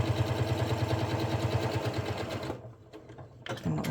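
A sewing machine stitches a pocket onto a notebook cover, running with a steady, fast mechanical whir for a couple of seconds before stopping, followed by faint handling clicks.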